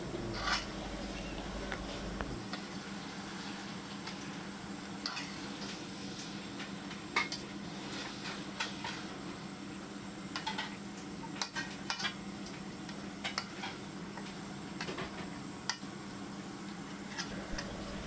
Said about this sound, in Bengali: তো আমি অলরেডি জলটাকে শুকিয়ে নেবো, তার জন্য সুন্দর করে আমি নেড়ে চেড়ে ফ্রাই করে নেবো